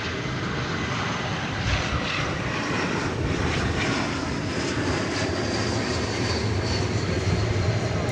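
An airplane at DFW Airport roars steadily past with a broad, loud engine rumble that holds throughout, heard from an outdoor plane spotting position.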